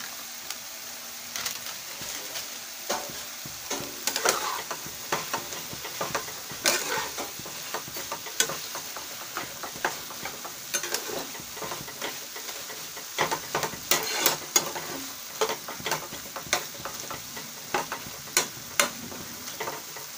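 A dish with turmeric is stirred and fried, faint sizzling beneath frequent irregular scraping and tapping strokes of a spoon against the pan, with no talking.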